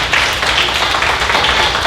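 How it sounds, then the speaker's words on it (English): An audience at a county library show claps loudly and steadily, a dense burst of applause filling the whole moment. "Give her a big round of applause if you will."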